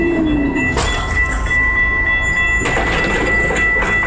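A train rolls past at a crossing, a loud continuous rumble and clatter of wagons with brief sharp squeals and hisses rising over the steady roar.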